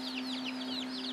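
Young Orpington chicks, four days old, peep in a busy chorus of high repeated chirps indoors, close and steady over a constant low electrical hum.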